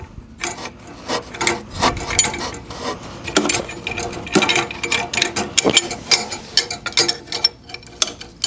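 A wrench works a brake line fitting loose on a Miata in a home garage, giving close scraping, rubbing and ratcheting metal clicks in uneven bursts with brief pauses.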